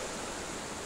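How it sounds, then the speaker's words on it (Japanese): River water flowing steadily across a midstream sandbar crossing on an off-road motorcycle route, a close, loud, continuous broadband rush with no pauses. "ここ川で"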